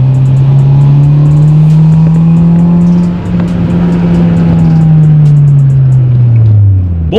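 A Honda Civic drifting, its engine roaring loud and close in a sustained high rev that rises and falls slightly, with faint tire noise, and no voices.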